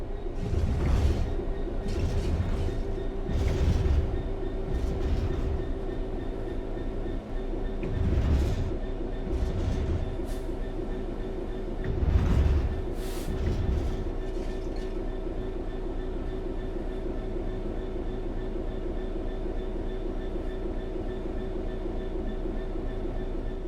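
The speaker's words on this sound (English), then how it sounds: "The train will then coast on level ground, and the train will only slow down very gradually." A train in Train Sim World 4 coasts steadily along level rails with a constant hum and rumble, broken by periodic clacks and thumps of wheels over track joints.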